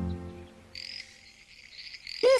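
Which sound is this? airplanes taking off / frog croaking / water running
frog croaking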